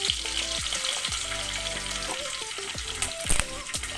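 Mustard seeds crackle and pop in hot coconut oil, the start of a tempering for barnyard millet upma, with a close, continuous sizzle, scattered sharp pops and some stirring noise.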